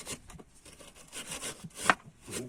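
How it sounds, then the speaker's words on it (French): A wire brush scrapes dust off the steering ball joint of a Peugeot 206 SW, giving quiet, uneven, gritty strokes up close. "on va commencer déjà par jouer un petit peu avec notre brosse métallique"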